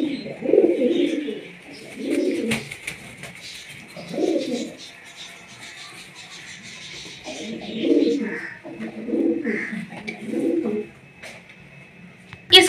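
Pigeons cooing near a dove's nest, a series of soft, close throaty coos in short bursts with pauses between, over faint background hum and occasional chirps.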